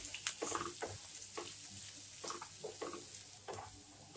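Grated papaya stirred in a hot pan for a Gujarati fafda dish, giving a steady sizzle broken by scraping stir strokes at close range, with no talking.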